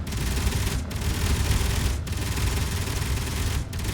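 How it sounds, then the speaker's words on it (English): Missile launchers firing in the space combat game Space Engineers: a dense, loud, continuous roaring barrage broken by brief gaps about every second, with no voices. "Missiles again."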